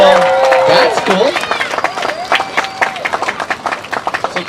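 Crowd clapping at a surfing championship awards ceremony, steady applause that thins into scattered claps while an announcer talks over it.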